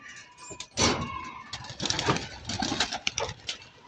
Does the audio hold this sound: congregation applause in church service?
no